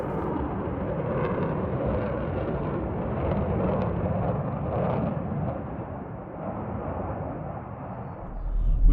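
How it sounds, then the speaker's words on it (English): F-15 and F-16 fighter jets flying at an air show over a joint base make a continuous loud engine roar that swells and fades slightly, with a rumbling low end and no voices. "F-15 and F-16 pilots honing their verticals and aileron rolls for the crowds ahead this weekend"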